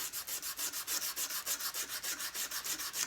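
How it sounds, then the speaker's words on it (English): Sanding the magnet on the flywheel of a Craftsman DLT 3000 lawn tractor down to bare metal, a steady rhythmic scraping rub repeating about five times a second, close and continuous with no talk. "So while we're in here, we're going to sand the magnet"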